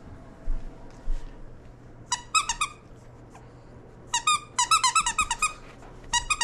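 A squeaky dog toy, a Christmas gift, squeaks in quick bursts of two to five squeals separated by pauses, fairly close and clear over a quiet room.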